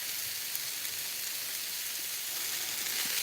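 Sesame oil sizzles steadily in a pan before shrimp teriyaki goes in, a constant bright hiss at close range with no talking.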